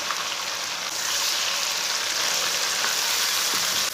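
Tomatoes and green chilies frying in a pan with whole cumin and coriander seeds, giving a steady, loud, dense sizzle that lasts throughout with no talking.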